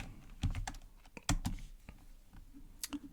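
A password is typed on a computer keyboard as a quiet, irregular run of close, crisp key clicks with short pauses between bursts.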